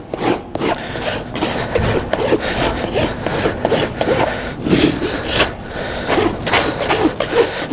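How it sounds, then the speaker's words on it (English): A farrier's rasp files a horse's hoof wall in quick, rough back-and-forth strokes, loud and close, each scrape a gritty burst in an uneven working rhythm with no voices. "Run the rasp around that."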